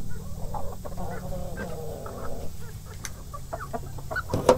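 Rhode Island hens clucking and squawking in a backyard flock, several birds calling near and far in irregular bursts, with a sharp loud squawk near the end.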